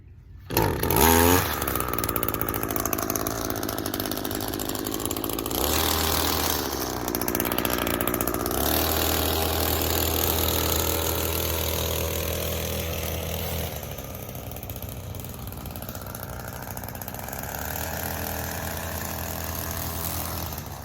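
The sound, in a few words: weed trimmer engine pull-started and running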